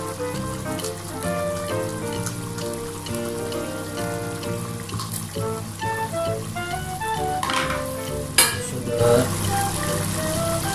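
Chicken menudo cooking in a pan with chicken broth, a constant rain-like sizzle and bubbling beneath a rhythmic music bed, with a sharp clatter near the end.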